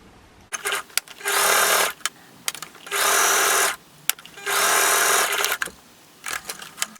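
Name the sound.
sewing machine stitching a skirt into a dress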